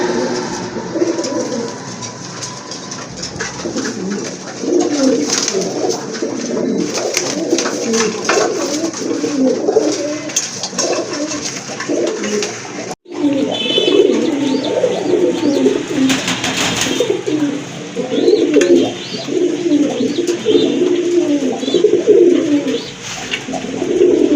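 Pigeons coo steadily and close by in a long, continuous run of overlapping calls, with a brief dropout partway through.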